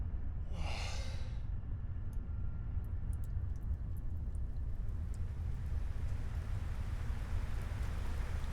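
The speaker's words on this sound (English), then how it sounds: "Rain?" Steady rain falls in the Final Fantasy 16 game world, a dense, low hiss of rainfall throughout, with a brief breathy sound near the start and faint scattered drips later.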